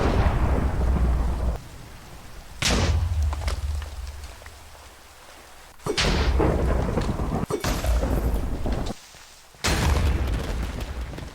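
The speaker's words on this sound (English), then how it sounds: "there was a thunderstorm partway through the draining process" Thunderstorm in Minecraft, with loud rolling thunder claps bursting in three or four times over a steady bed of heavy rain, each boom swelling broad and near before fading back into the downpour.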